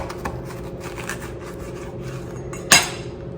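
A knife slices through a jalapeño pepper on a cutting board in a home kitchen, making one crisp, short cut near the end after a stretch of quiet rustling.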